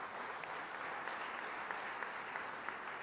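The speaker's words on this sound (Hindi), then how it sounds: "अशोक ध्यानचंद जी का भी ताली बजा के स्वागत कीजिए।" Crowd at an official welcome ceremony honouring Olympic hockey medal winners applauding for Ashok Dhyanchand, a steady, fairly distant round of clapping with a few sharper claps standing out, lasting throughout.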